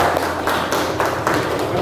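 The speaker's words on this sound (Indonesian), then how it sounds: "terus kita berikan tepuk tangan untuk Al-Farisi" Classroom applause at an Indonesian madrasah for a student named Al-Farisi, several loose, uneven claps and taps from a small group that go on steadily with no one speaking.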